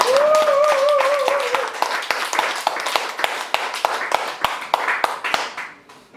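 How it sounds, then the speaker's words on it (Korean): Sharp, scattered audience claps ring out at first under singing voices, then settle into a thinner run of individual hand claps with brief gaps between them. "왜 이렇게 박수가 약해요? 크게 쳐요."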